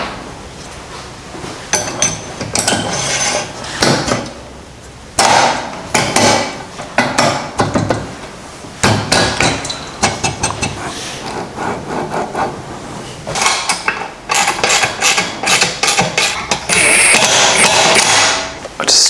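Tools tightening the axle bolts on a supercharged minibike: a series of metallic clanks, clicks and scraping knocks in irregular bursts, close and fairly loud, with brief quieter gaps between.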